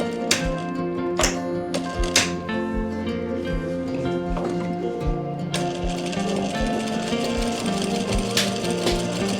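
A sewing machine stitches a neck design on a garment, running in a steady, fast mechanical rhythm with regular clacking pulses close by and loud, with no talking over it.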